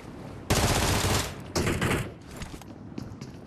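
Rapid video game gunfire erupts in two loud automatic bursts, the first longer and the second shorter, followed by fainter scattered shots and mechanical clatter in an underwater game mode.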